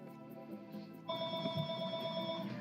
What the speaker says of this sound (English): Gonna have to wait for my phone to stop.